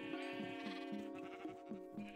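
Sheep bleating in the video game Minecraft, a series of repeated wavering bleats in quick rhythm over a steady background tone, fairly faint.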